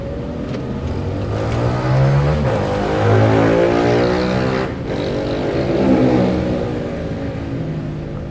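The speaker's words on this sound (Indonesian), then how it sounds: "mobil ngebut yang dari atas" A car speeding down a mountain road between Banjaran and Pangalengan at dusk, its engine roaring loud and close as it rises and passes, with the noise swelling twice before easing off.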